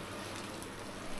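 Heavy rain pours down steadily as a dense, even wash of broadband hiss with no pauses, close and fairly quiet, with no voices.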